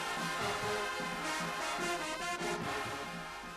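University marching band at a homecoming mini parade on the Winston-Salem State University campus, playing loudly and continuously with brass and pounding drums, heard outdoors from close by throughout.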